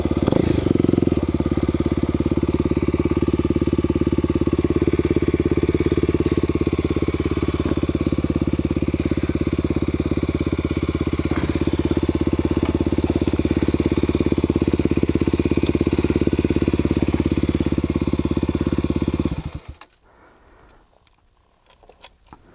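Motorbike idling near a long highway bridge, a steady loud close engine rumble running for about twenty seconds before cutting off into near silence.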